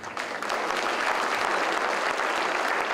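Students in a hall clap for event committees at an international MBA launch, a dense, sustained round of applause that swells quickly and holds steady at full strength.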